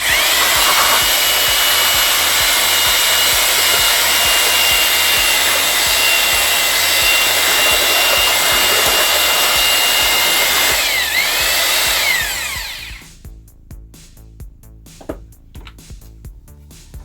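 Power drill with a mixing paddle churning a batch of concrete, a loud steady whirring drone for about twelve seconds that then cuts off, leaving faint scraping and small knocks.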